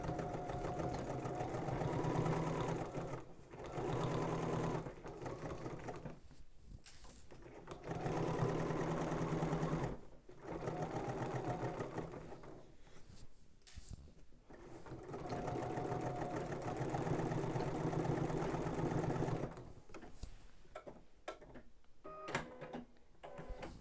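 A sewing machine stitches ribbing in long steady runs of fast, even whirring and needle chatter, stopping briefly several times before starting again, close and loud with no talking.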